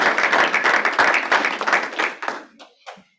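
A room of colleagues at a stakeholder meeting claps for a coworker, a few seconds of steady scattered applause that thins out into a handful of last claps.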